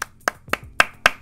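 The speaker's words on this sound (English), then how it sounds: "Applause, please." Five sharp, evenly spaced hand claps from a single person, close and dry, with quiet gaps between each.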